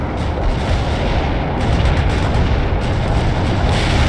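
Loud, continuous artillery barrage in World in Conflict: heavy booms rumbling and overlapping into a dense roar of explosions that barely lets up across the span, close and powerful.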